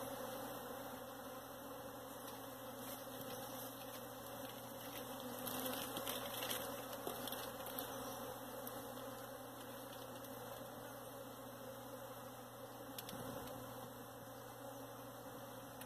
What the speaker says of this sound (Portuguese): É muito, muito, muito, muito, muito barulho.